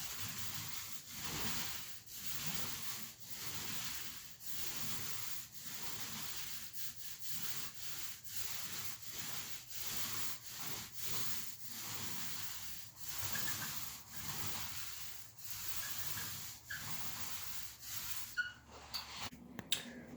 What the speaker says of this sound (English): eliminate any of those roller marks that happen in between the wall when we're stopping and rolling like this